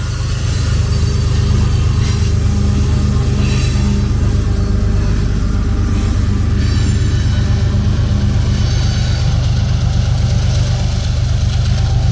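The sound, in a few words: Union Pacific 7452 locomotive passing as distributed power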